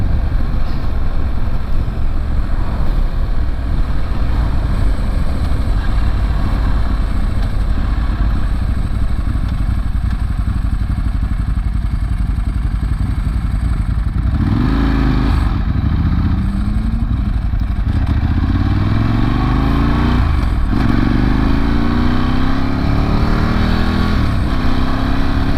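A Ducati 916 motorcycle under way, its engine a loud steady drone with heavy wind rush, then rising and falling revs as it accelerates and shifts through gears.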